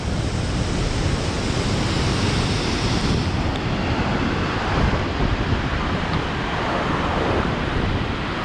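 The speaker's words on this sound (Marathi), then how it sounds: "आता आपल्या समोरच आहे उंच अशा वाहणाऱ्या लाटा, वारा आणि मोठ्याच मोठ्या येणाऱ्या लाटा" Loud, continuous roar of high surf crashing at Kasheli beach, Ratnagiri, with strong wind buffeting the microphone, a dense rushing wash that never lets up.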